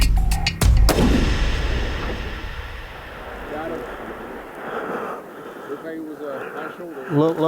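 A single loud hunting rifle shot cracks out at the start while hunting aoudad in West Texas, followed by a long fading rumble and wind noise outdoors, with faint voices murmuring afterward.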